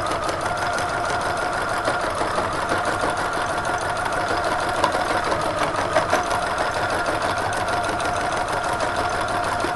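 A sewing machine stitching peach rayon thread embellishment onto a skirt runs in a steady, close, continuous rapid whirring hum with a fine rhythmic needle chatter.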